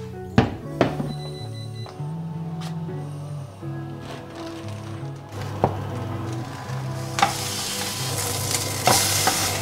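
Frozen tsukemen ramen being cooked in a kitchen. Clunks and taps of pots open it, a low humming tone runs beneath, and a frying sizzle swells toward the end, close up with no talking.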